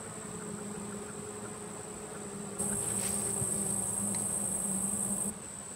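Honey bees buzz around an open hive in late August, in a colony with no honey stores. The hum is close and steady throughout and swells louder through the middle stretch, with no talking.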